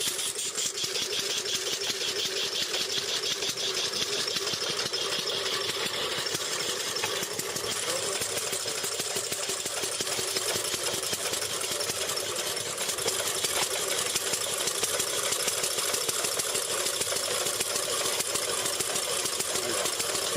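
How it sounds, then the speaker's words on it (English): A vintage early automobile engine with brass pipes and exposed valves runs steadily with the transmission engaged, a continuous rapid mechanical clatter held at an even, fairly loud level throughout. "With the engine running and the transmission engaged"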